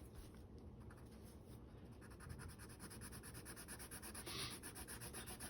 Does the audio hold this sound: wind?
no